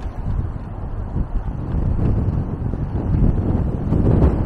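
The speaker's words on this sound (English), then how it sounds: "Man, it's quite windy." Strong wind buffeting the microphone on a downtown Toronto street, a continuous low rumbling roar with gusty surges, loud and close, no voices.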